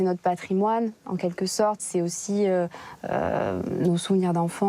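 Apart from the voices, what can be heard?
None of the usual background noises is heard.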